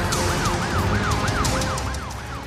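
An ambulance siren in an animated children's video wails in a fast, repeating rise-and-fall pattern, loud and steady over a low background rumble.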